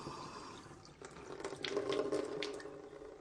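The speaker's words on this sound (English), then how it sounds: "As the water is running" Tap water runs steadily from a home well-water system, a soft, even hiss that swells slightly after the first second and keeps flowing without voices.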